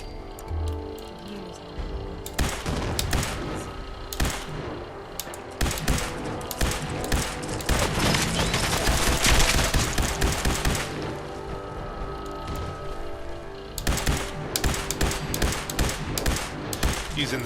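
Sustained bursts of rapid automatic weapon fire in the video game Fallout 4, loud and dense, with gaps between volleys and the longest unbroken stretch in the middle.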